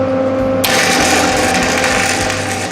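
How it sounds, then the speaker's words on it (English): A welding tack on a DIY home dumbbell weight rack: a low electrical hum gives way to a loud, steady crackling arc buzz that holds close and continuous for about two seconds. "let's do some welding."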